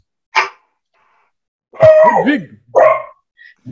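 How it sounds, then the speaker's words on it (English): A dog barks close by in short bursts: a quick yip, then a longer bark with a whine, another bark, and a faint trailing sound, loud and without talk. "We don't want the dog barking during this"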